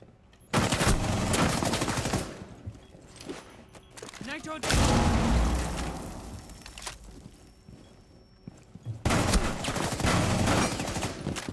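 Gunfire in a shooter video game played on controller, in loud sustained automatic bursts that start abruptly and come in three long stretches with quieter lulls between, close and heavy.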